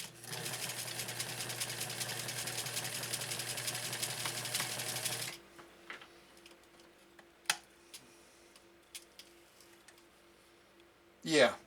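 A 1956 Atlas sewing machine with a Bakelite foot pedal lock-stitches outdoor material, running in a loud steady whirring burst for about five seconds before stopping, followed by a few faint clicks and knocks.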